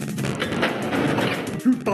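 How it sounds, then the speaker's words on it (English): Gunfire crackles in the video game Spear of Destiny as a dense, continuous burst of shots and echoing impacts against a wall, loud throughout and ending in a couple of sharper blasts. "You're making shots, but you're hitting the wall."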